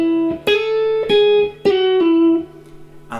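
Clean electric guitar playing an intro riff, a few plucked notes and sustained double-stops with sharp attacks, close and clear, played alone.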